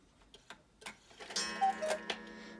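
Black Forest barn owl cuckoo clock with an eight-day mechanical movement ticking: close, crisp ticks at a steady pace that grow busier and louder toward the end, in a quiet room.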